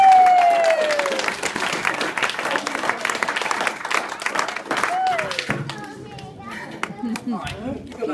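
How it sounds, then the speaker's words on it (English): Audience applause for musicians at a live performance, a loud, dense burst of clapping that fades gradually over several seconds, with children's voices and crowd chatter mixed in. "Another round of applause for the musicians."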